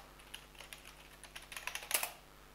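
A computer keyboard typed on while entering a Linux terminal command, soft rapid key taps close by that quicken toward the end and finish with a firmer keystroke.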